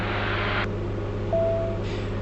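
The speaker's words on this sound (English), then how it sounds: "That is the sound of my tank switch reminder." An aircraft's fuel tank switch reminder, a soft, steady electronic tone, sounds once for about half a second over a constant engine drone and cabin hum.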